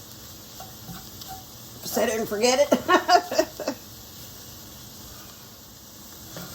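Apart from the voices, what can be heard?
flour frying in a roux while being stirred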